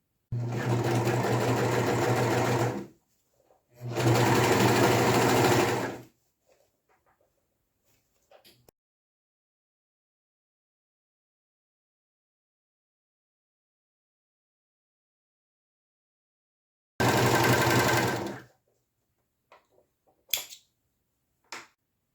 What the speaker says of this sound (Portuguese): passar na overlock e já venho mostrar o resultado final para vocês